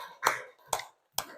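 Three separate sharp hand claps ring out in a classroom, spaced roughly half a second apart, close and fairly crisp against an otherwise quiet room.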